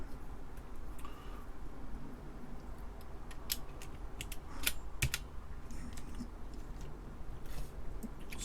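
Keycaps pressed back onto a TeleVideo TVI-912C terminal keyboard, a series of sharp plastic clicks and snaps at irregular intervals, close by, with no talking.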